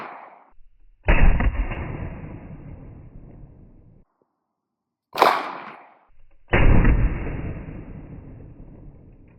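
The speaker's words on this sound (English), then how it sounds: "So first up is going to be the 9mm out of the 92 FS." Two loud 9mm pistol shots from a Beretta 92 FS, each a sharp crack followed by a long rolling echo, separated by a few seconds, with a brief metallic clack between them.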